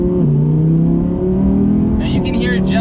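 A 2020 Audi R8 V10 accelerates hard with a loud, steady engine roar that climbs in pitch, and the dual clutch transmission snaps through a quick shift near the end.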